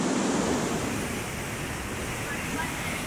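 Water bubbling and frothing in a sailboat's wake, a steady broadband rushing wash that stays loud and close throughout with a slight surge at the start.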